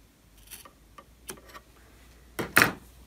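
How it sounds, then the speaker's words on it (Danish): Scissors snip a small notch into the seam allowance of a pair of sewn trousers, a few soft, faint cuts followed by two louder, sharper snips close by in a quiet room. "jeg simpelthen lige klipper et lille hak ind i sømmen"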